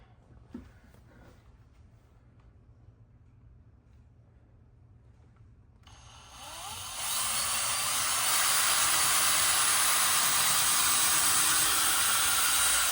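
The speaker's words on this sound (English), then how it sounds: "I'm just gonna pre-drill a little bit." After several seconds of quiet, a power drill starts up, pre-drilling screw holes in window trim, and whines steadily and loudly at close range until the end.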